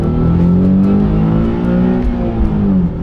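Stock car engine floored during a test drive, revving loud and close in a sustained, rising drone for a few seconds with no voices.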